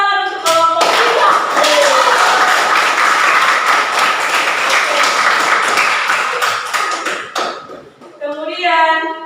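A classroom of students applauds a group for about seven seconds, a dense, loud burst of clapping from many hands, with a voice heard just before and after.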